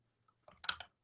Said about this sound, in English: do some fine trimming with some razor scissors if you got them.